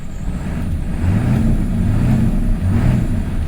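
A 1997 Ford F-350 pickup revving hard as its slipping transmission struggles to move the truck, a steady loud low engine drone that swells slightly in waves, close by with no talk.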